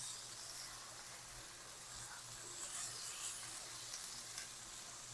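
Sliced red tomatoes cook in a spiced masala for potato gravy, giving a steady, soft sizzle and hiss that runs unbroken throughout.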